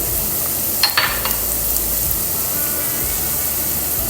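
A curry with bones, coriander powder and chilli powder sizzles steadily in a pan. A few sharp scrapes and clinks from a spoon sound near the start as it is stirred.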